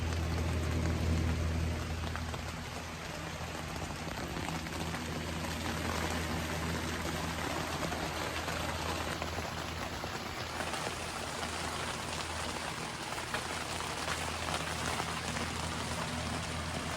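Steady heavy rain pours down continuously on a campground in the Smoky Mountains, North Carolina, a dense even hiss of drops drumming on surfaces throughout, with no voices.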